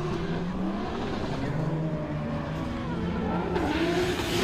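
A drift car accelerates on a track at a Pure Drift event, with a loud sustained engine drone whose pitch rises and falls as the throttle comes back on.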